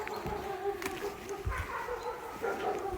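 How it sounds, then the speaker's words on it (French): Sheepdogs guarding their territory bark several times outdoors on a hiking trail near Chambéry, short barks and yips rising over steady background noise, moderately near. "T'as vu, les chiens, ils ont l'habitude de défendre leur territoire. c'est les chiens de berger."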